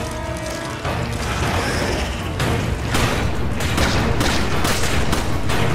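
Continuous gunfire and clattering mechanical impacts in Resident Evil 5, loud and dense with sharp bursts stacked over a busy background, no talk.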